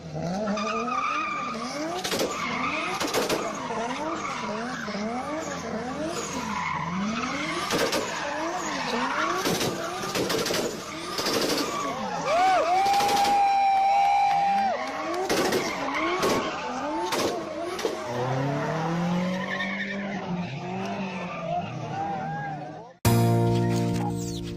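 A car with a boosted engine revs hard while its tires skid and squeal in long repeated sweeps, loud and close, with brief bangs and a sudden cut near the end.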